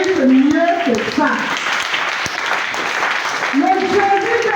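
A church congregation at a Sunday service claps during worship, a steady spread of applause heard beneath voices that speak and sing throughout.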